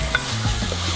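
Chicken meatball soup ingredients sizzling and being stirred in a pan, a steady close frying hiss with faint scraping, no speech.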